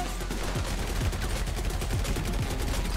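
Continuous gunfire during a casino heist video game, a dense and steady clatter of rapid shots that carries on without a break.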